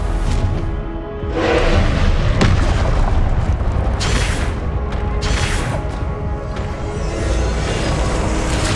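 Confringo fire-spell blasts in the Hogwarts Legacy video game rumble as deep, loud booms and bursts, overlapping in a dense run of combat explosions with no speech.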